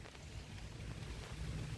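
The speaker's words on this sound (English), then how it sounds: "As you can tell, it is raining." Rain falling during a storm, a steady, fairly faint hiss of drops with a low rumbling wind or thunder underneath, continuous with no voices.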